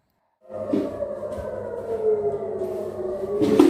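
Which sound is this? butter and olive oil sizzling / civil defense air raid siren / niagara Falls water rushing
civil defense air raid siren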